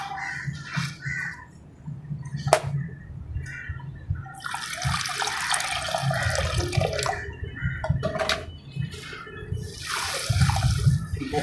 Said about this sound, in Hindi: चलो इसके अंदर पानी ऐड करते हैं।